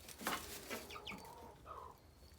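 Backyard poultry in a flock of roosters and hens give a few soft clucks and short calls, faint and somewhat distant, with quiet gaps between them.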